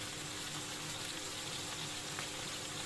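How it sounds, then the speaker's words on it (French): Pieces of filet mignon browning in a pan, a steady close sizzle and hiss running evenly throughout with no talk. "Je vais faire revenir mes morceaux de viande"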